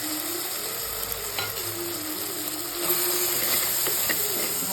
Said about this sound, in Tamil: ஸோ நம்ம மிளகாய் பொடி நல்லா அந்த எண்ணெயில் வதங்கி அந்த ரா ஸ்மெல் போகிற வரைக்கும் நல்லா வதக்கி கொடுக்கணும்.